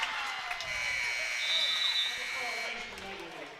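A basketball game buzzer at the end of the third quarter sounds in a high school gym, one long, loud, sustained electronic tone that holds for several seconds before tapering off.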